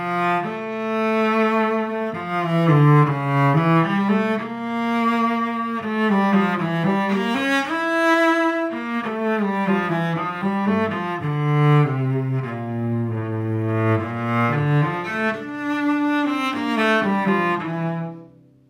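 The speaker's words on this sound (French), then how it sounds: "c'est un son de violoncelle" A cello plays a slow, sustained melodic line, heard as a recording played back from a smartphone dictaphone. Its bowed notes are continuous and moderately loud for almost twenty seconds, then fade at the end.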